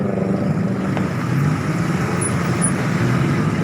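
Steady road noise heard from inside a car moving through night-time traffic in Tangerang, with a continuous low engine and tyre rumble and occasional passing vehicles, no talking.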